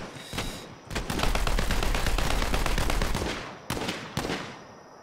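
Automatic gunfire in the shooter game Borderlands 3, a dense rapid burst lasting a few seconds after a couple of single shots, then further isolated loud shots, close and prominent with no talk over it.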